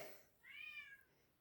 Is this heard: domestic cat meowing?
yes